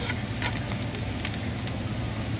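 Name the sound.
garlic and ginger sautéing in oil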